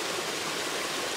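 Water flows and rushes steadily in a stream at an off-grid hydro site in Cape Breton, a dense, even, continuous broadband wash close by, with no talk.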